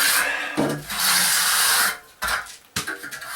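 A trowel scrapes a cement skim coat across cement board in a basement bathroom, loud rough rasping strokes close up, with short pauses between passes.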